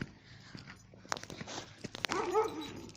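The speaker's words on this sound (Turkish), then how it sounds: "Evet arkadaşlar bu da arkadaşımın köpeği Hati." A dog yips and whimpers in short, excited bursts near the microphone, with scuffling movement and some background noise.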